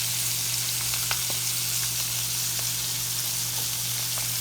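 Chicken wings fry undisturbed in a pan with a steady, dense sizzle and faint crackles and pops, close and continuous, with no voices.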